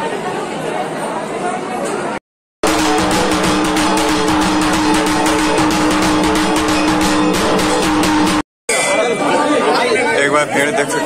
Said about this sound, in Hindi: एक बार भीड़ देख सकते हैं, तबाही।